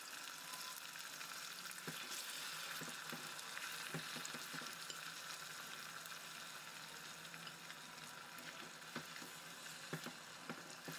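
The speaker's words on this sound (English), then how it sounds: "Fry the fish" Catfish pieces frying in a pan over low heat for Vietnamese claypot braised fish, a soft, even sizzle and crackle with faint scattered pops, quiet and steady throughout with no voices.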